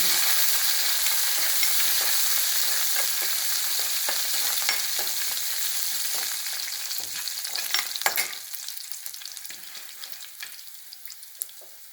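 Chopped onion sautéing in hot oil with curry leaves and green chillies, cooked for cassava bonda: a steady, close sizzle broken by scraping stir strokes, easing off slightly toward the end, with no talking.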